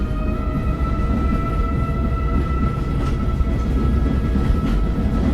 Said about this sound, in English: this is not your ordinary train